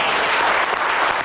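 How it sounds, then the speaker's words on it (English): A theatre audience bursts into rapturous applause for an actor playing Ali at the close of a play, a dense, loud wash of clapping filling the whole moment. "The applause for Ewing was rapturous"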